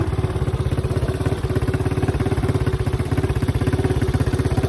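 A small 125cc quad bike putters along in first gear, its single-cylinder engine beating in a fast, even chug that stays loud and close throughout, with no speech over it.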